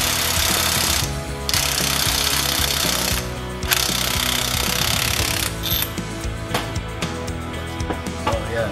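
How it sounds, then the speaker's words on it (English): Electric impact wrench hammering on a seized alternator bolt of a Mazda RX-7, loud and close in long rattling bursts separated by brief pauses, then shorter choppy bursts toward the end. "Put it on the electric impact."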